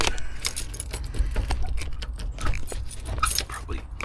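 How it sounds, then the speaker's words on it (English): A key jangles and scrapes in the steering column lock of a 1984 Toyota AE86 Corolla coupe, close and fairly loud, with clicks and rattles of the key ring throughout. "this is a good time to see if my key will unlock the steering column"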